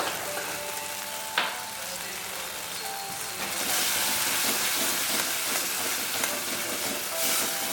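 Spices with turmeric and salt sauté in oil for a Bengali pabda fish curry, a low sizzle with a sharp stir knock early on, then swelling into louder, denser frying hiss, close and without speech.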